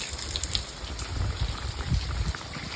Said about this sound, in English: Raining pretty hard.